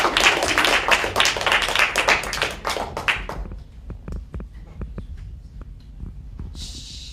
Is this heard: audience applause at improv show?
yes